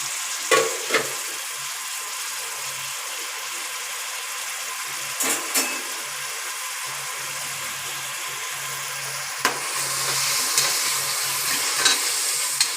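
Chopped onions and green chillies fry in a pan for a chicken curry, giving a steady, even sizzle with a few brief clicks of stirring. The frying grows a little louder toward the end.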